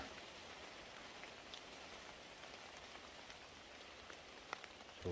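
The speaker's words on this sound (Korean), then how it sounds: "그래도 이 빗소리 들리시나요?" Steady rain falls through a forest on a rainy mountain walk, an even, continuous patter of drops on leaves and ground that holds for the whole stretch, with a faint knock near the end.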